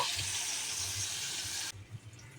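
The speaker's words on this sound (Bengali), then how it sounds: "এবারে একটু জল দিয়ে দেব" Tap water streams into a cooking pot in a home kitchen, a steady close rushing that cuts off abruptly, followed by faint clinks.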